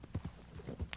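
Horse from the video game Red Dead Online, a faint, brief patter of clip-clopping hooves with a soft snort, quiet and close.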